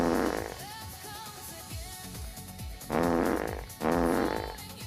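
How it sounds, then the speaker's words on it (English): A fart sound effect plays loudly during a game stream, with repeated buzzy, sputtering blasts: one at the start, then two longer ones near the end, with quieter bursts in between. "I cannot focus with that fart sound"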